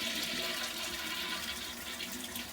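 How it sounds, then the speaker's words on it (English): A boat toilet on a vessel with a holding tank flushes, steady rushing and gurgling water running continuously at close range with no talk. "and when you flush"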